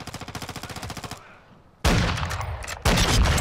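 Rapid automatic gunfire in Call of Duty: Modern Warfare II, a fast even burst of shots followed by a brief lull and then loud, close, heavy blasts of continued fire.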